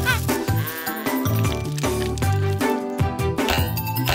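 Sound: cartoon sheep bleating

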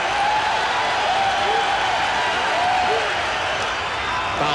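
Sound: baseball stadium crowd cheering

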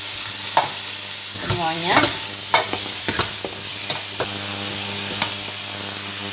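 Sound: stirring squid and eggplant stir-fry in a pan

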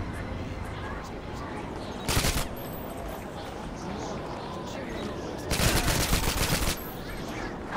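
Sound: gunfire in Call of Duty 6 video game

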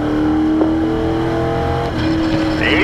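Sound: race car accelerating at full throttle

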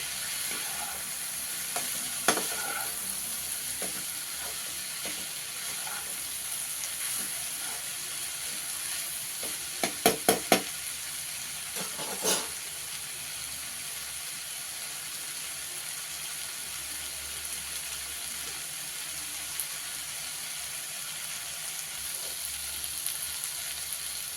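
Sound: frying and stirring masala in a pan

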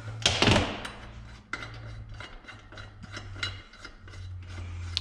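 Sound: ratchet backing off bolt on valve spring compressor tool

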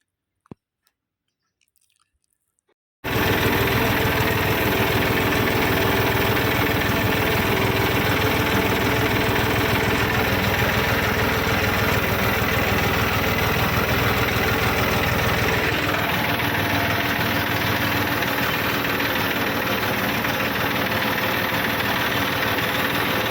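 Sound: tractor engine running

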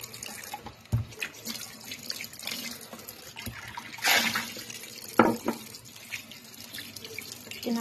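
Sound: tap water washing a tomato

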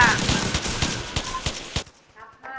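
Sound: gunfire from enemies in Roblox zombie video game

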